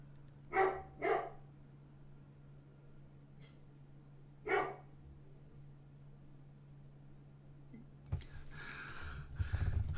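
A dog barks at a distance indoors: two quick barks, a pause, then a single bark, over a steady low hum, followed by rustling and handling noise at the end.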